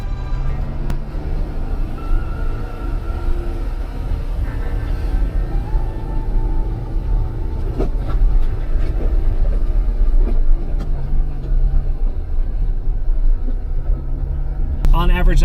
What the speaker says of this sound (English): I'm gonna shift down into a lower gear